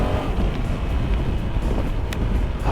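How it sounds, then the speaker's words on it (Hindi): A motorcycle ridden in sports mode along a Mumbai road gives a steady, loud rush of wind buffeting over a low engine rumble, continuous throughout with no talking. "चलो फिर बाइक को डाला जाए स्पोर्ट्स मोड पे।"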